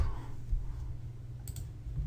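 A single computer mouse click, close and crisp, comes during spreadsheet work. It lands about two-thirds of the way through, over a low, steady room hum, with no talking.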